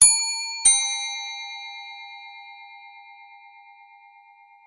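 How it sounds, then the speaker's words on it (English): Power station clock chime for the first quarter: two bright bell strikes, the second following under a second after the first, each ringing out with a long, slowly fading metallic hum. "This is the first quarter chime."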